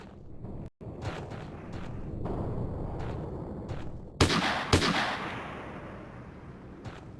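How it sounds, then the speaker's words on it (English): Gunfire in the tactical shooter Hidden & Dangerous, with a rumbling background of battle and two loud, sharp blasts about midway, then the noise fades away. "Second machine gun up there."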